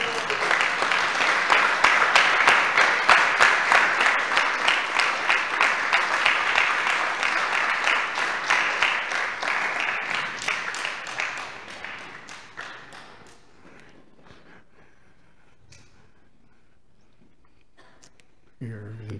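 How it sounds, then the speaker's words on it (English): An audience claps enthusiastically at a Krishna festival gathering, with dense loud applause that holds steady for several seconds, then thins into scattered claps and fades out. "Your enthusiastic clapping made me forget what I was going to say."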